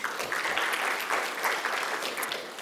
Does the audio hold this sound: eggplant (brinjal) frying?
no